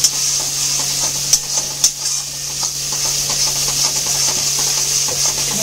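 A masala with Kashmiri chili powder fries in a pan, a steady close sizzle broken by a few sharp scrapes and taps of a spoon near the start, with no voices.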